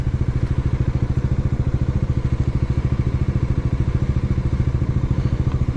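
A motorcycle rolls slowly through city traffic with a steady low engine thrum and rapid, even exhaust pulses held at a constant pace.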